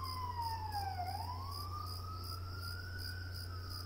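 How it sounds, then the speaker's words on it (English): A wailing siren sweeps down and back up in pitch as it passes, over a steady background hum and high insect-like chirping. "There's a siren passing."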